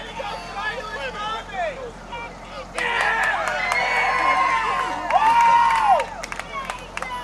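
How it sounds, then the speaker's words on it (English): A crowd at an independent tag-team wrestling show cheers and shouts, swelling from scattered voices into a sustained roar, while a commentator talks over it in the foreground. "The crowd's going crazy."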